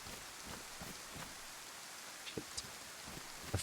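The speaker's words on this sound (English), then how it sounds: "The rain is helping mask our footsteps." Steady rain falls in the survival game DayZ, a dense, even hiss that lasts the whole stretch, with a few soft low thumps and light ticks near the end and no voices.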